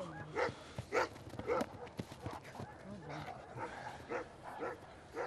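A police German Shepherd barks in repeated sharp, close bursts while it apprehends a man, with people talking throughout and some scuffling underneath.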